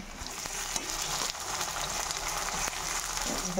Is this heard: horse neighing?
no